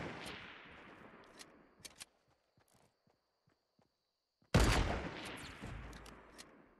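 Fortnite Battle Royale sniper and weapon fire: loud bursts of shots with ringing tails, a quiet gap of faint taps, then another heavy blast.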